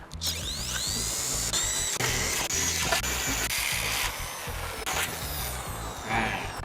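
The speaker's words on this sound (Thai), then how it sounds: "ก็เจาะเลยค่ะ" A power drill whirs continuously while drilling holes in a door to install a smart lock, with gritty grinding and brief pauses and changes in motor pitch, close up.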